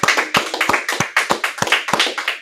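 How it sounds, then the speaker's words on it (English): A small group clapping in unison at the end of a class, sharp rhythmic claps about three per second, close and loud. "Clap it up, clap it up."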